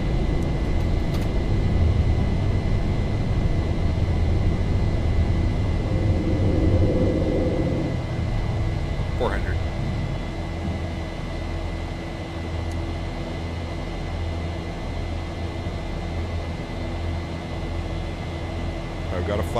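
A Boeing 737-800 (Zibo mod) jet in X-Plane 11 takes off, its engines a loud, steady roar that holds through the roll and climb while a voice speaks over it.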